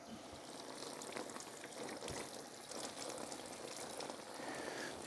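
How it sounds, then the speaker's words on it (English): Tap water runs in a steady, continuous stream over raw deer shoulders, a close, even splashing hiss that holds the same level throughout with no talking. "run them under a little water"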